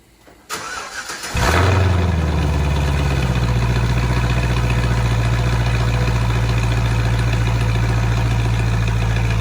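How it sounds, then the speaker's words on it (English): A Cadillac CTS-V with a new Stainless Works cat-back exhaust, tips not fitted, cranks briefly, fires up loudly and settles into a deep, steady idle rumble close by. "exhaust is all on, and we're gonna go ahead and do the first fire up here."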